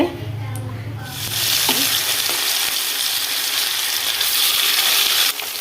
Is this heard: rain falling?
no